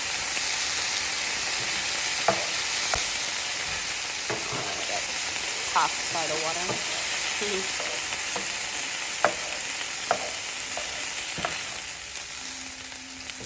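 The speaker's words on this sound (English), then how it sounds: "It's probably going to sizzle a lot" Onions sizzle and fry steadily in a pan after water is added, a constant hiss broken by occasional scrapes and clicks from stirring, with a voice speaking briefly.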